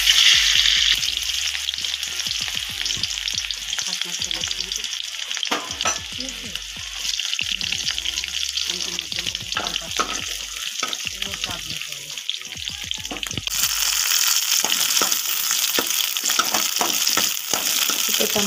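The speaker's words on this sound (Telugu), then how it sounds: "ముందుగా స్టవ్ వెలిగించి అందులో పచ్చిమిర్చి, ఆనియన్, టమోటో ఫ్రై చేసుకోవాలి." Green chillies, onion and tomato fry in a pan on a stove, a steady close sizzle with stirring scrapes throughout, the hiss swelling louder toward the end.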